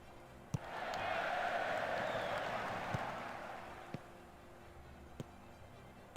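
Stadium crowd in Football Manager 2021 swelling into a broad roar that peaks and slowly fades, with a few sharp knocks on top, fairly faint overall.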